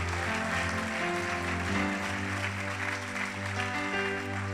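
A church congregation claps loudly for the Lord after a sermon, a sustained roar of hands over a steady musical background with held tones, continuous and even throughout.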